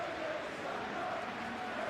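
Stadium crowd in Munich before a football match, a steady distant roar of many voices humming and swelling faintly without clear peaks.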